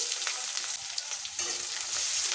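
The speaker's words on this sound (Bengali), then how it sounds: "তেল গরম হয়ে গেছে দিয়ে দিচ্ছি পেঁয়াজ কুচি রসুন থেতো করে নিয়েছি" Chopped onion and crushed garlic drop into hot oil and fry with a dense, steady, crackling sizzle, loud and close, with faint stirring underneath and no speech.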